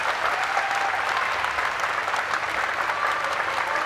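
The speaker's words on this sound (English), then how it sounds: "Let's give all the swimmers a round of applause." Steady applause from a crowd at a women's 400m freestyle S9 swimming race at the ASEAN games, dense and continuous throughout with a faint tone drifting through.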